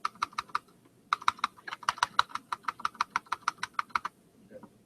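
Keystrokes on a computer keyboard at a retro Apple II user gathering: two quick bursts of crisp clicking separated by a short pause, close and clear, with no talk.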